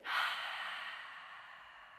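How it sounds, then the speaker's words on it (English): A deep, complete exhale through the nose after a full breath in yoga practice, a soft breathy rush that swells quickly and then slowly trails off over about two seconds, close and alone with no talking. "Take in as much air as you can, inhaling through the nose. Exhale completely."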